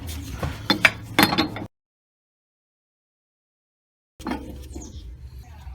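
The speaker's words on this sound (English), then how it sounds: "Now we can put this locking collar back on." A locking collar and spring cup go back onto a Powertrix coilover with helper springs: a burst of metallic clinks and ratcheting handling, a stretch of silence, then softer metal rattling.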